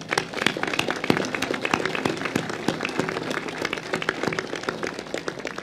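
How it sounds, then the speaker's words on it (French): A crowd applauds the director of Sciences Po Menton at the outdoor inauguration of a new seaside promenade in Menton, dense steady clapping from many hands heard throughout at moderate level. "On peut l'applaudir"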